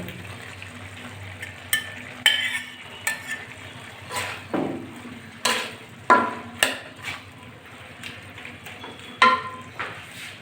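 Fried potatoes are tipped into spinach cooking in a pan for a Bengali potato-and-bori chorchori, then stirred: repeated close scraping strokes and light metal clinks over a faint low sizzle.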